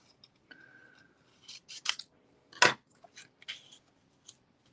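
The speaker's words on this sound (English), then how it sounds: "Okay, I'll just cut it." Scissors snip through a paper flower on a handmade card, a handful of crisp close cuts in uneven bursts with one sharp louder snip near the middle and quiet gaps between.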